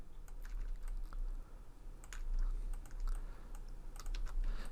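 Computer keyboard and mouse used while assembling a graphic, with rapid irregular taps and clicks at close range over a faint low hum, no voices.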